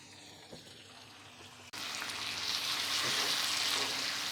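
Mutton dropped into a pan of fried ginger and garlic: quiet at first, then an abrupt loud burst of sizzling that continues as a dense, steady hiss close by.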